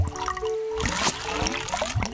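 A cartoon doorbell makes a bubbly, gurgling water noise, with wet trickling and splashy burbles that come in quick uneven bursts.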